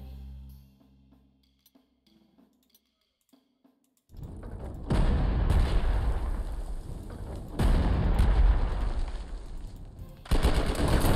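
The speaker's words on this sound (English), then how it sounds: "Flak." Heavy bursts of anti-aircraft flak fire in a WWII strategy game, loud dense rapid gunfire with booming blasts arriving in three waves after about four seconds of near-quiet.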